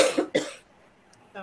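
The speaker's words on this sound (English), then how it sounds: "Cough, cough." Two sharp, close coughs in quick succession from a single person, followed by a brief quiet pause before a short burst of voice sound.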